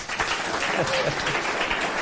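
Students in a secondary school classroom clap together for a classmate's performance, a short, dense burst of applause with a voice briefly mixed in.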